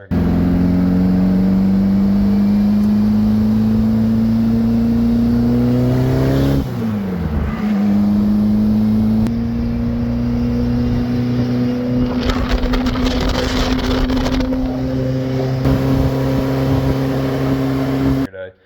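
Dune buggy engine revving while driving on a cold 35-degree day, a loud continuous motor drone that rises and falls with throttle, dipping sharply midway before climbing back and holding steady.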